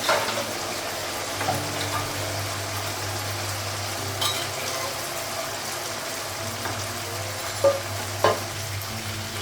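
Meat sautés in a pan in a home kitchen, a steady close sizzle with occasional stirring scrapes and clinks over a low constant hum.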